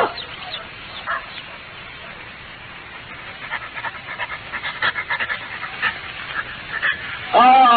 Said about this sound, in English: Leave the dog here and come up.